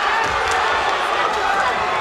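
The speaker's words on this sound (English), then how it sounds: "And the crowd respond to the way they've stepped the pace up again." A crowd at a fight tournament roars and cheers in a loud, continuous wash of noise, with a commentator talking over it.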